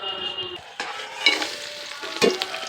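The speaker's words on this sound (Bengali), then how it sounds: "আমার তেলটা গরম হয়ে গেছে, এখন কাঁকড়াগুলোকে দিয়ে দেবো।" Crabs fry in hot oil, opening with a quiet low hiss, then bursting into louder crackling sizzle as pieces hit the pan, with sharp spatter peaks and a stirring scrape near the end.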